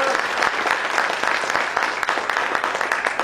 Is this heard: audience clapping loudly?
yes